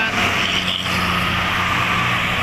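A Sinar Jaya coach bus drives by with a loud, steady engine rumble and broad road roar, close and continuous throughout.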